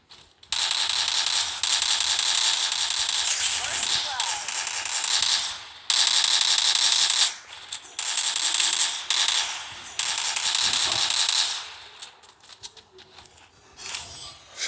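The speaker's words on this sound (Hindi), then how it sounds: "फ्लेम थ्रोअर से हेडशॉट करूं" A flamethrower in Free Fire Max roars in long, bright bursts of hissing, crackling noise, cutting off and restarting several times with short gaps between the blasts, loud and close.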